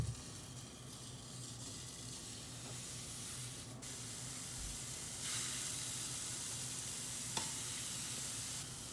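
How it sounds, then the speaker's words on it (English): Sausages frying in a pan on a stovetop burner set to 6, a steady close hiss and sizzle continuing throughout, with a couple of faint clicks and no voices. "Now these sausage, you cook them until each side is a dark brown"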